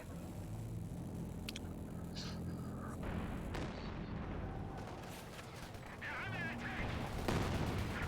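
Mortar fire in a World War II strategy video game battle, rumbling booms and blasts rolling through a dense mix of game battle noise, with a voice talking over it.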